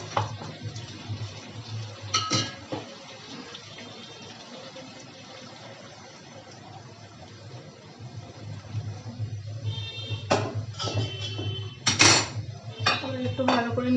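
A metal utensil scrapes and knocks against a pot while chicken curry with capsicum is stirred, soft bubbling underneath and a few louder clanks bunching toward the end, close and without voices.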